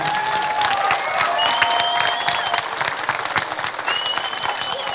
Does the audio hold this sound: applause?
yes